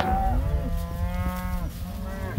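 Cattle in a mob-grazing herd on a cocklebur field moo in long, drawn-out calls, one loud and close with others overlapping, over low outdoor rumble.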